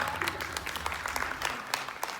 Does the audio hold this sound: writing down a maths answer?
no